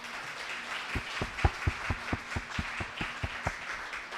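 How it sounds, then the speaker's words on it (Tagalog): Congregation at a Sunday church worship service claps in a loose, fairly even rhythm, a dozen or so distinct claps sounding moderately quiet over a faint room hum. "Ang sabi ko ho, palakpak."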